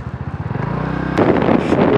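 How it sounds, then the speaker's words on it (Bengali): Sea wind buffets the microphone during a scooter ride along Marine Drive in Cox's Bazar, a loud, steady rumbling roar that thickens partway through, with the scooter's engine blended in. "সমুদ্রের বাতাস খেতে খেতে যাচ্ছি।"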